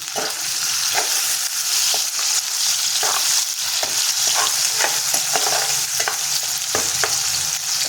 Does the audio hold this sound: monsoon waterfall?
no